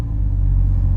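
Steady low engine rumble from a Mazda RX8 fitted with a 1JZGTE VVTI turbo engine and a quieter exhaust, a continuous close idle drone with no talking.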